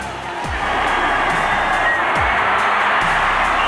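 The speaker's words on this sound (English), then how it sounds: "And this crowd is noisy now." Loud, steady roar of a football stadium crowd cheering at an NFL game, a dense continuous wash of noise filling the whole stretch with a few low thumps underneath.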